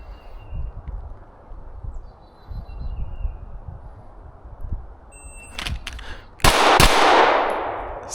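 Gunshots ring out during shooting drills at an outdoor range on a spring day, with a few sharp, loud cracks near the end over a low rumble of wind and background noise.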